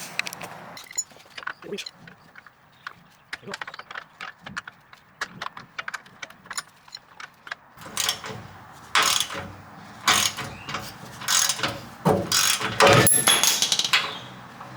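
A ratchet works a bolt loose on the gas tank of a 1967 Impala. Quick metallic clicks and clanks come at first, then turn louder and denser, with the clatter of tools and parts.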